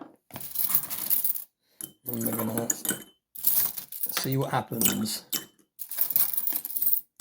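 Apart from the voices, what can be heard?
silver coins dropped into cleaning solution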